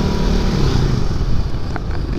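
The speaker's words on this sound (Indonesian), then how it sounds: "Gue bisa ngerasain suara knalpot gue" A loud motorcycle engine rumbles close by inside a tunnel, its deep exhaust drone echoing and reverberating off the enclosed walls.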